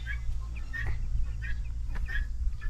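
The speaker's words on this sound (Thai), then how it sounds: "ไก่หัวเราะ" Chickens cluck repeatedly in short bursts over a steady low hum, several clucks spaced through the clip.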